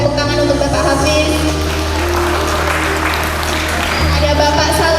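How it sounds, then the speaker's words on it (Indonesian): A school audience at an SMK student project event applauds a teacher. The applause is dense and continuous for five seconds over a steady background hum of music or a PA system. "berikan tepuk tangan untuk Bapak Hafiz"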